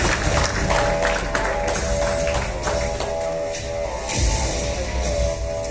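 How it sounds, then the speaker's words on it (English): Applause from an audience at a car and bike racing awards ceremony, a steady dense wash of many hands clapping with some crowd noise and a sustained tone underneath, continuing throughout. "Big round of applause, guys."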